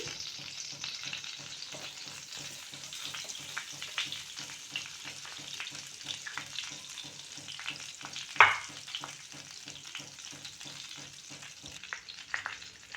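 About a teaspoon of cumin seeds sizzles in one to two teaspoons of oil for masala pav, a steady close crackle and fizz with a single sharp utensil clink partway through and no talking.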